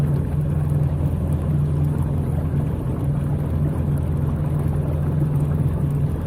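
LS-swapped Humvee engine idling, a loud, steady low rumble that holds without a break and has no talk over it.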